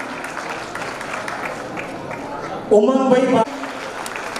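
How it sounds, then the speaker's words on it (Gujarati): Applause at a Wings event fills the background with steady, moderately loud clapping, while a voice calls out a name over it and a short raised vocal burst rises near the end. "તેમના માટે જોરદાર તાળીઓ થઈ જાય"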